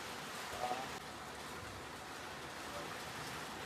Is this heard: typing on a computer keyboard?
no